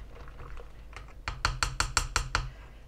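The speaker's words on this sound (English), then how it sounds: "Mix it all up." A spoon or utensil clinks rhythmically against a container while stirring chia seed pudding, about six or seven regular bright taps in quick succession after a few softer scrapes.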